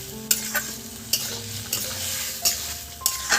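Fried rice being stirred in a pan after salt is added, close rhythmic spatula scrapes striking about every half second over a steady sizzle, with no voices.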